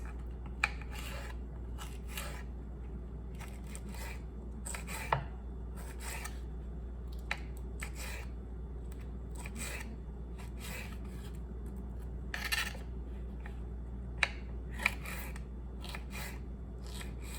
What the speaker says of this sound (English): I'm just going to slice them into strips